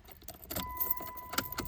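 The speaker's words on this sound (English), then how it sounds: "Insert the key. Damn it, wrong key, Bob." A bunch of car keys for a 1991 Chrysler New Yorker jangles in a few quick metallic shakes, close to the microphone, with a faint steady tone underneath.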